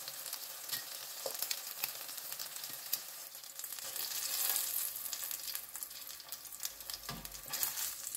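Food frying in hot oil for an Indian chicken curry, a continuous dense crackling sizzle close up with no talking.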